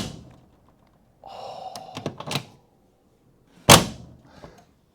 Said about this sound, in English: you know the door is straight because all you hear is the latch mechanism, that satisfying mechanical click